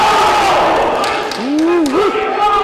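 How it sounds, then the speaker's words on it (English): At a college basketball game, a crowd chants and cheers in a loud, continuous roar, with a rising voice-like tone standing out partway through and a commentator talking over it. "Some of the chants are not appropriate, y'all."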